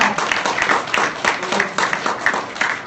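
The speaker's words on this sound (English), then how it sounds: "Another round of applause." Audience applause for a lightning talk speaker at a tech meetup, a steady patter of clapping from a modest crowd with some voices mixed in, fairly close and even throughout.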